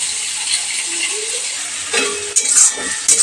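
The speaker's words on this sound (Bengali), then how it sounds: "এই যে মশলাটা কষিয়ে নিচ্ছি" A paste of ginger, ground cumin, coriander, turmeric, chili and sugar mixed with water sizzles steadily in a hot pan, with a few louder scraping stirs near the end and no one speaking.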